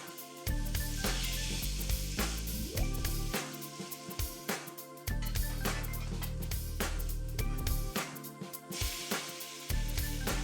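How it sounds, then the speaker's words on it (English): A homemade burger patty sizzles on a griller, a steady crackling hiss carrying on throughout, close and moderately loud, layered over a rhythmic music bed with strong repeating beats. "start grilling the patty on both sides"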